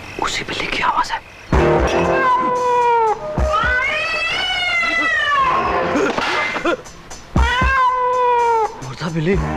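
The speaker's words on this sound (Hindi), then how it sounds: "अभी अभी मैंने उसी बिल्ली की आवाज दोबारा सुनी।" A cat meows over and over, close and loud, with long drawn-out wavering cries that rise and fall, separated by short pauses.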